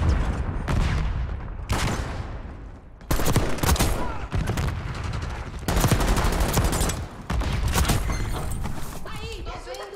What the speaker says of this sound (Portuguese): Sniper inimigo atirando.